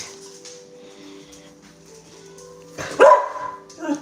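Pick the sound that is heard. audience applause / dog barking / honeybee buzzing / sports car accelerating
dog barking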